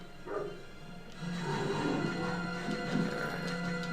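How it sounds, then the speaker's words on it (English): A dog barks in the video game Blue Stinger, a few short yelps near the start, then blending into a steady wash of in-game noise and effects. "Alright, dodge the dog."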